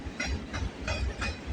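CSX locomotives haul a freight train along the CPKC Galt Subdivision at Bronte. Close railcars roll past with a steady low rumble and rhythmic clickety-clack from the wheels on the rail joints, and no voices are heard.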